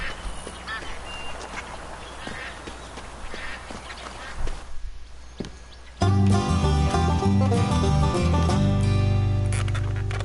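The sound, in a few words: ducks quacking in Duck Dynasty video game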